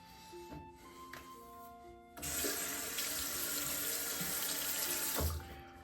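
Cold water from a bathroom sink tap gushes in a steady, close, loud stream after the faucet opens partway through, preceded by quieter running and small clinks, with no talk.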